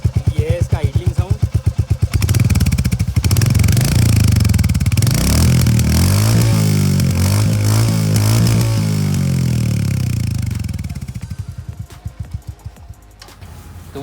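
A Royal Enfield Hunter 350 motorcycle exhaust idling close by with a steady low thump, rising into a fuller revving roar in the middle before easing back to an idle putter.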